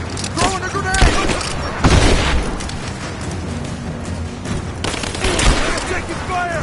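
Heavy gunfire in the video game Rise of the Tomb Raider: dense, loud overlapping bursts of shots and booming impacts fill the whole stretch, with voices mixed into the battle.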